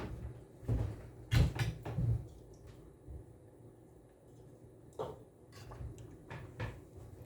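Drawers in a workbench storage cabinet opened and closed while resistors are put away, giving a cluster of wooden knocks and slides near the start, then a few lighter clacks later on.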